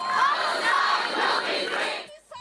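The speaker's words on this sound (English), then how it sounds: "Some also chanted this." A large protest crowd chants a slogan in unison, loud and rhythmic, with many voices blending into a steady roar that breaks off abruptly near the end.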